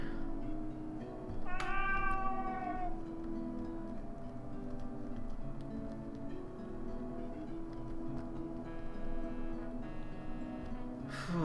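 A cat in a video game gives a clear, rising-and-falling meow near the start, followed later by a few softer mews over quiet game ambience.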